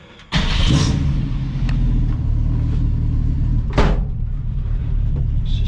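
A 1965 Ford Mustang restomod engine cranks and catches, then settles into a loud, rumbling idle close by, with a brief rev partway through and no talking.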